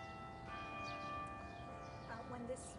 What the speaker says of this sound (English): When this bell finishes, you can just pick up where you are.